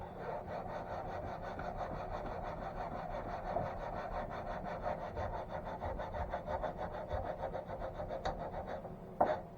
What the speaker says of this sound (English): a lot of sanding going on with these.